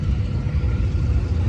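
A V12 turbocharged car engine gives a deep, steady rumble that throbs slightly, close by, with no clear revving over the short stretch.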